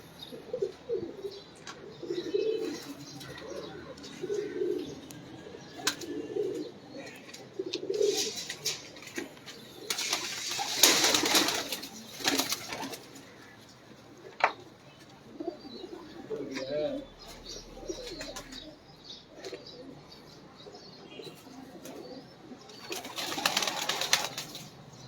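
Pigeons cooing in a loft kept by a pigeon fancier, low soft coos repeating through the clip amid wing flutters and scattered background noise, with people talking intermittently.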